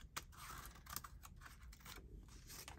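Scissors trimming glued book paper, a few quiet snips and rustles close by, faint and alone without talking.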